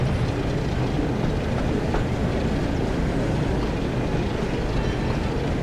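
Thomas the Tank Engine train running in Train Sim World 5, a steady loud rumble of wheels and rail with faint clickety-clack, continuous throughout.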